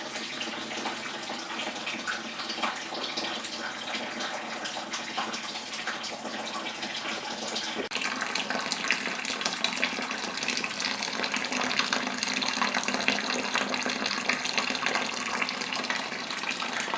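Tap water pours steadily into a home brewing vessel, a continuous broadband rush that grows slightly louder and fuller about halfway through as it fills, with no talk over it.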